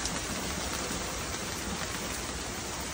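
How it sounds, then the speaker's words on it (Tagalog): Heavy rain pours down steadily over covered crops on a farm, a dense, even roar of drops with no letup and no voices. "Sobrang lakas ng ulan lang dito sa amin."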